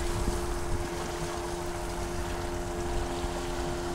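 A motor boat runs fast across small waves, giving a steady broadband engine and water rush with a low hum. It stays loud and unbroken the whole time, with no voices.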